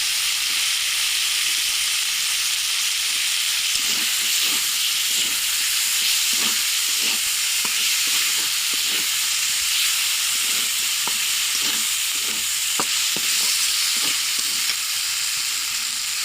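A pan of curry with red chili fries with a loud, continuous sizzle as chopped tomato goes in. The hissing stays steady throughout, with faint stirring clicks now and then and no voices.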